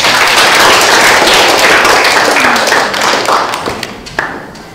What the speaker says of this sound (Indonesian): kita kasih tepuk tangan untuk RC dan Evisan